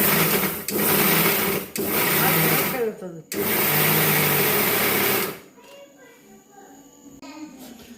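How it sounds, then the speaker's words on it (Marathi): A mixer grinder whirs loudly in several short bursts, grinding sesame, chillies and garlic, with brief stops between them, then falls quiet. "आता आपण हे मिक्सरला फिरून घेऊया"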